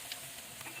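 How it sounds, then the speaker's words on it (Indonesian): Thin tempeh chip batter frying in hot oil, a faint steady sizzle with soft crackles and light bubbling, quiet and close with no voices. "Kita goreng di minyak panas."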